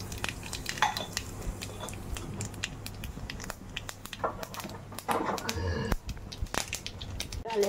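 Dry red chillies, black cumin and mustard seeds hit hot oil in a kadai for tempering sour dal, crackling and spitting in a busy stream of sharp pops over a low steady hiss, close and fairly quiet.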